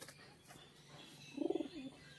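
A long-bodied female Jack pigeon held for sale gives a single short, soft cooing phrase, close and fairly quiet over faint background noise.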